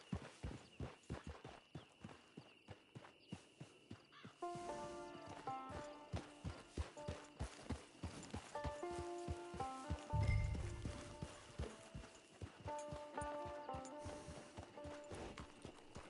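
Steady clip-clop of horse hooves at a walking pace in Red Dead Redemption 2 Online, close by, with a musical melody playing over it and a brief low thump partway through.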